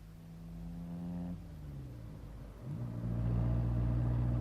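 A car engine hums steadily in a radio drama sound effect, with its pitch shifting as it drives off and rising to a louder, stronger drone.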